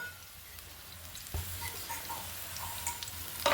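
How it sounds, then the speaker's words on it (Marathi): Crushed green chillies and garlic sauté in a pan, with a faint, steady sizzle, an occasional stir and a sharp utensil knock near the end. "कुडून टाकलेल्या मिरच्या कुडून टाकलेल्या लसूण तर मस्त परतून घ्यायचं"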